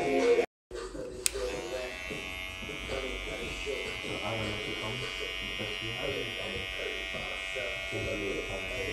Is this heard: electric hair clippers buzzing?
yes